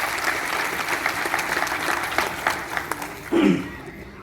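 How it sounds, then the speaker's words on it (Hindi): Clapping rises from the audience at a BSP political rally in Maharashtra, a steady patter of many hands that thins toward the end, where a brief voice cuts in over the fading applause. "तो एक बार जोरदार तालियां हमारे सभी युवा और बुजुर्ग साथियों के लिए।"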